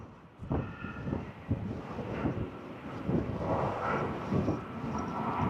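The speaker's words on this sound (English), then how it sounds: "Jet 2 coming in from Belfast, DRTT, Tango Tango." A Jet2 airliner arriving from Belfast at Fuerteventura Airport gives a distant, rumbling engine roar that swells gradually, mixed with gusty wind buffeting on the microphone.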